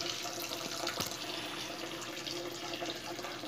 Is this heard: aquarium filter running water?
yes